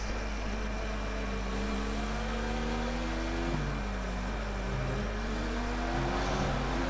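An F1 race car engine in a PlayStation 4 racing game, a steady high whine that rises and falls through gear shifts, with a few pitch drops partway through. The engine sounds constant and close, with no talking.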